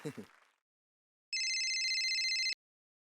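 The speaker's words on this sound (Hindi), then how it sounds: "एक मिनट, फोन आया।" A brief voice, then a short pause before an electronic phone ringtone trills clearly for about a second and stops.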